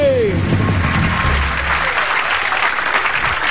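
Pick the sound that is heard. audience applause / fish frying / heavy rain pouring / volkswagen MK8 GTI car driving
audience applause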